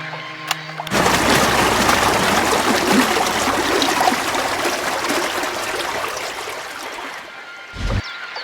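Water rushes and drains in a steady, loud stream as the water level lowers in the adventure game Syberia, starting abruptly after a short mechanical clunk and tapering off before a final thud.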